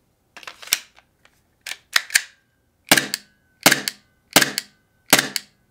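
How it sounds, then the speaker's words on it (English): Green gas recoil laser training pistol fired seven times, each shot a sharp, loud crack with a snappy mechanical report, spaced irregularly with short gaps, the last several shots in a steadier rhythm. "So the unique thing about the recoil enabled is that you get a recoil report every time you pull the trigger on one of these devices."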